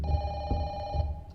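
A telephone rings in the horror game Don't Be Afraid, a sustained electronic ringing tone holding steady and fairly loud with faint low thumps beneath it.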